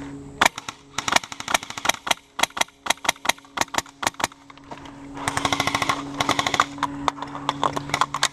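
Rapid cover fire from a Polarstar paintball gun during an outdoor attack-and-defend game: sharp, close cracks in quick irregular bursts, then a faster sustained string of shots over a steady background hum, with no talk.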